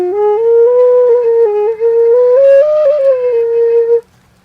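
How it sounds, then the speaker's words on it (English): A kena flute, the Andean bamboo notched flute, plays a sustained melodic line of smooth, breathy tones stepping between pitches, loud and close, then stops abruptly with a soft low hum beneath. "Okay, let's do the Kena first."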